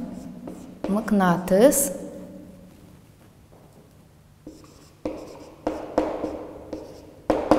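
Pen writing on a board or paper during a Turkmen-language science lesson about magnets, heard as short scratchy strokes in separate bursts between stretches of a teacher's speech.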